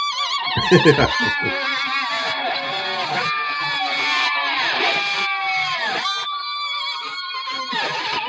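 A horse gives a loud, shrill whinny that rises and falls in several wavering calls, close and clear with some scuffling at the start.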